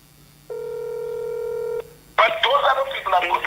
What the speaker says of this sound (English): Natasha, answer the phone.